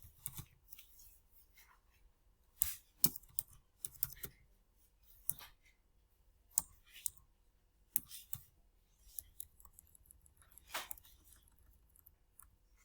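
Soft, sparse clicks of typing on a computer keyboard come in short bursts with pauses between, quiet and close in a still room.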